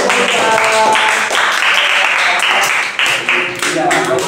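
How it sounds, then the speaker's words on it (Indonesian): Classroom applause for a student during a teaching practice lesson: loud, close clapping from a group, with voices talking over it. "Tepuk tangan buat Roja"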